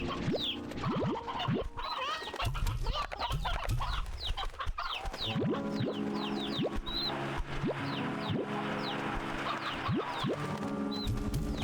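Hens clucking in the video game Slime Rancher 2, a busy chorus of repeated short clucks and calls over steady ambient game sound, with no talk.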